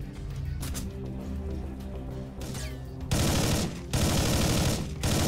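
Video game gunfire in Collapse: rapid automatic bursts rattle close and loud, one sustained volley and then another after a brief gap, following quieter ambient game sound.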